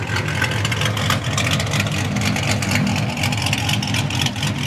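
A Chrysler 300 SRT muscle car idles and rumbles in a steady, continuous low drone during a Mopar cruise, with broadband road and wind noise layered over the engine.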